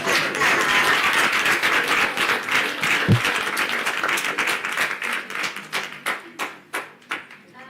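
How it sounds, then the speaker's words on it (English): Audience applause for panelists at a media summit: dense clapping fills the room, then thins into scattered individual claps toward the end. "I think a round of applause for the panelists."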